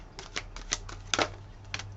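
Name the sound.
shuffling a deck of cards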